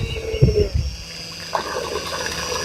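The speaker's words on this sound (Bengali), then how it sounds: "গাইস দেখেন কিভাবে পানি আয়ে" Water gushes from a 12 volt metal pump powered by a 775 DC motor, a close, splashing rush with a few louder bursts early on, no talk.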